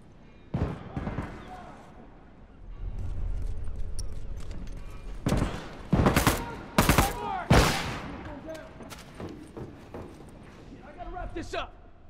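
Rifle gunfire in a multiplayer shooter video game, with several sharp, loud bursts of shots and rapid volleys clustered in the middle, mixed with other game noise and background chatter.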